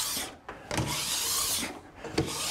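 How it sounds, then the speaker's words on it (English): A file pulled along a ski's steel edge from tip to tail, giving close, rasping scrapes in a few long strokes with short gaps between them. "work my way down the ski, pulling the file, from tip to tail"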